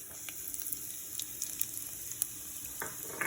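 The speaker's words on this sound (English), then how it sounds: "adding about a teaspoon of cumin seeds to the heated oil. Do you hear the sizzle?" Seeds sizzle and crackle in hot oil, a faint steady frying hiss dotted with small pops.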